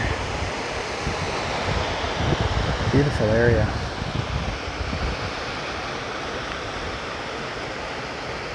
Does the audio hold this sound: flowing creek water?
yes